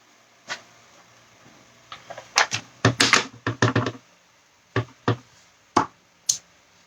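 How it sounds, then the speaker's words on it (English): A rubber stamp thumps onto scrap paper on a table in a run of sharp taps and knocks, with several close together in the middle and a few single ones spaced out near the end. "Scrap paper, just to make sure it stamps properly."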